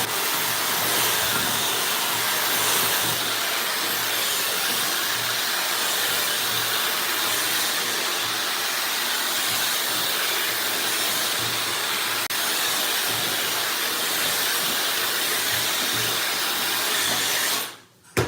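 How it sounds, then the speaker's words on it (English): Handheld blow dryer drying hair after dry shampoo was combed in, a steady loud whooshing roar held for about eighteen seconds before cutting off abruptly. "go in with the blow dryer"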